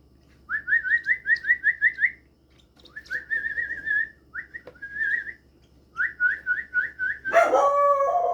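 Lutino Opaline African lovebird giving bursts of rapid, high, repeated chirping calls in several separate phrases, close and clear, ending with a harsher, louder squawk.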